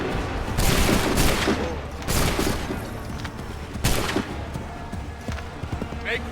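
Musket volleys in Assassin's Creed 3 Remastered on Xbox One: several loud, ragged bursts of gunfire roughly every one to two seconds, with rumbling battle noise between them and shouted commands over the top.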